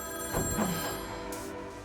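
A telephone bell rings indoors, a steady ringing tone repeating across the whole stretch at moderate loudness, with no one talking over it.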